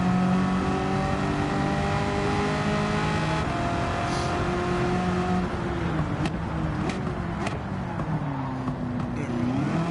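Race car engine revving in the video game Gran Turismo 7, a powerful front-heavy car with instant torque, holding a steady loud drone with rising and falling pitch through shifts and corners, continuous throughout.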